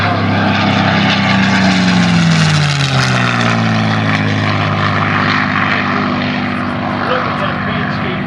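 A P-51 propeller fighter performing aerobatics at the EAA airshow, its loud engine roar rising and then falling in pitch as it sweeps past, holding as a steady drone throughout.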